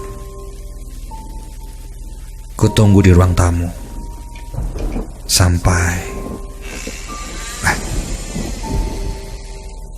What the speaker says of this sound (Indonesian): Keesokan harinya, Bandung diguyur hujan.